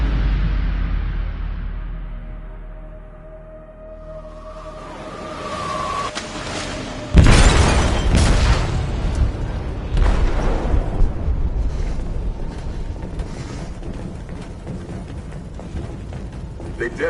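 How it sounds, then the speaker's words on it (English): A heavy explosive blast goes off in a ship's hold in Detroit: Become Human, a deep booming burst after a quieter, tonal lead-in, followed by a long rumbling, crackling aftermath with scattered debris impacts. "They detonated an explosive in the hold"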